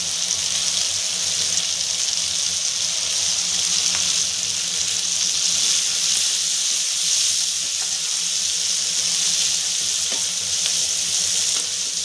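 Broad bean pieces coated in a light dusting of roasted spice powder fry steadily in a pan, a continuous close hiss of sizzling oil with no break and no voices over it.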